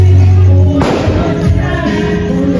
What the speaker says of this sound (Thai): จุดประทัดเป็นระยะนะคะเขาบอกว่าเป็นการบูชาเทพเจ้านะคะ